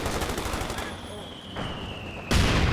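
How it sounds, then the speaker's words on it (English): Machine gun fire in the Company of Heroes 2 strategy game, a rapid rattling burst with dense battlefield noise, dipping briefly before a sudden loud blast of gunfire near the end. "He just ran right into this machine gun here."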